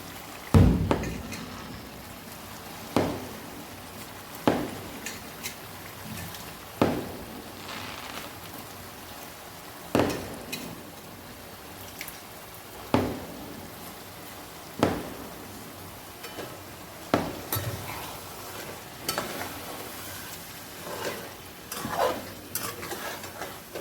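Rice being added and stirred into a pot of egg biryani, repeated scraping strokes of a spoon with soft grainy rustling and sizzle between them, close and steady, recurring every few seconds.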